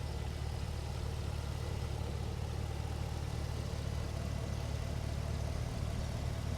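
Holden Commodore VF SS with a V8, six-speed manual, X-Force exhaust and Harrop OTR intake, idles with a steady low rumble and constant hum throughout, no talk over it.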